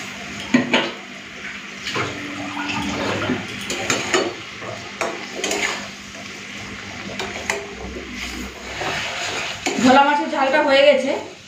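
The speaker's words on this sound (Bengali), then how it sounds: "এরপরে ভাজা ভোলা মাছগুলো দিয়ে দিচ্ছি" Fried bhola fish pieces go into a pan of boiling mustard gravy, with clattering of utensils against the pot, stirring, and a rising sizzle and bubbling toward the end, loud and close, under a voice talking.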